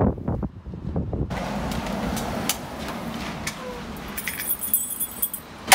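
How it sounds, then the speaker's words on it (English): Gusty wind buffeting a parked car on the Isle of Skye, a dense roaring rush with irregular surges and faint rattling, close to the microphone and without talk. "It's a bit windy, like."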